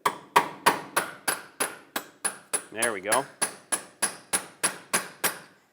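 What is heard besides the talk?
hammer tapping a punch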